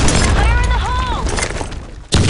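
Grenade going off in the online shooter BlackShot, a sudden loud broadband blast near the end that follows a stretch of game noise and radio-style voice chatter.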